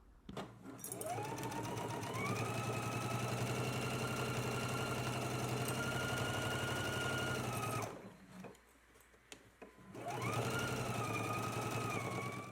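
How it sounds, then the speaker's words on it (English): A home sewing machine stitches a 5/8-inch seam in a fast, steady mechanical whir that runs for several seconds, pauses briefly, then starts up again, heard close and alone. "let's stitch in a 5/8 of an inch seam allowance now"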